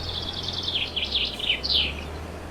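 Birds chirping in the farming game Farming Simulator 22: a run of quick, bright twittering calls at moderate volume over a low steady rumble, with no talking.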